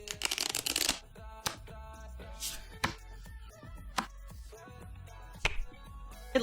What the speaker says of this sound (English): I think there was a shuffle sound.